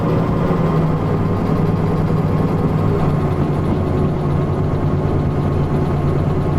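A diesel locomotive in the Derail Valley train simulator labours under throttle, pulling a light load with a steady low rumble and constant drone throughout, loud and close with no voices.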